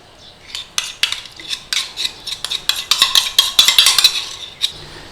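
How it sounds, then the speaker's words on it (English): A utensil stirs butter and milk with cornflour in a metal pot over a flame, giving a quick run of close, bright scraping clinks that grow denser and louder, with no talk. "Keep giving it a stir,"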